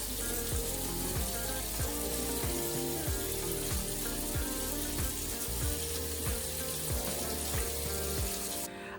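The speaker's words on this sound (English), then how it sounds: "just go ahead and brush my teeth" A Sonic Fusion 2.0 electric toothbrush brushes teeth while water runs from a tap, with a rhythmic pulsing buzz repeating about every half second over a steady rushing hiss.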